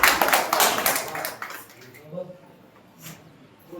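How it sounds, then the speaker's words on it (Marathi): An audience at a school batch reunion claps in a brief burst of applause that fades within a couple of seconds, followed by quieter room sound and a few faint taps. "टाळ्या टाळ्या"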